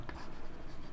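A pen scratches steadily across paper in one continuous close stroke of handwriting, lasting about a second with no talk.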